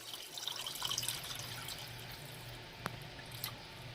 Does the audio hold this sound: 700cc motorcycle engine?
no